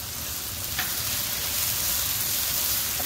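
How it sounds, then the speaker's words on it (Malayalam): Crushed garlic and ginger sautéing with shallots and onions in a pan for a Kerala beef bone curry, giving a steady, close sizzle and frying hiss that lasts throughout with no talking. "ഇതിലേക്ക് നമുക്ക് ചതച്ച് വെച്ചിരിക്കുന്ന വെളുത്തുള്ളിയും ഇഞ്ചിയും ചേർത്ത് വഴറ്റിയെടുക്കാം"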